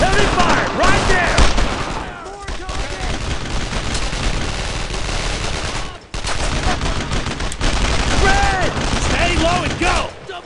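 Heavy rapid gunfire and machine-gun bursts in the World War II shooter game Brothers in Arms: Road to Hill 30, loud and continuous across the clip, with shouted voices mixed in.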